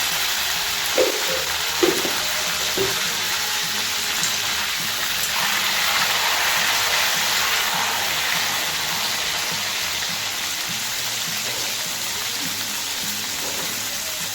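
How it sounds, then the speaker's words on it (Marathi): Eggplant pieces fry in oil over a low gas flame, giving off a steady hiss and sizzle with a few soft knocks early on, with no talk. "तर आपल्याला वांगे तेलामध्ये शिजून घ्यायचे असे मस्त"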